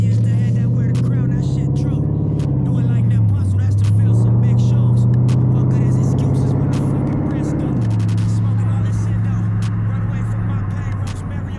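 An SRT8 car driving with the windows down on a mild December day, its loud engine droning steadily close by with a shift in pitch partway through, while someone talks over it.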